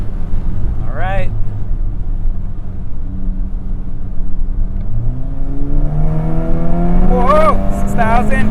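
An APR Stage 3 tuned VW GTI accelerates hard, its engine note climbing steadily in pitch through the gears, loud and close, with excited voices and exclamations over it.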